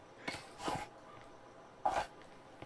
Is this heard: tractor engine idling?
no